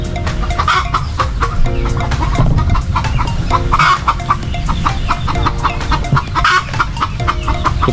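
Chickens cluck continuously on a farm with turkeys and ducks around, a busy overlapping chorus of close and distant calls with the occasional rooster note, no talking.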